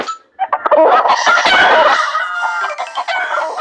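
Chickens in the game Avatar World cluck and squawk loudly up close in a busy, overlapping burst, with no talking.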